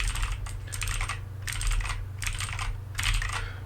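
Bursts of clicky typing on a HyperX Alloy Origins mechanical keyboard with blue switches, coming in several quick rapid-fire runs separated by short pauses, close and crisp over a steady low hum.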